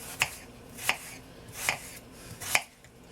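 A knife dices apples on a cutting board for apple cake, giving four crisp, evenly spaced chops that ring out sharply against a quiet background with no talking.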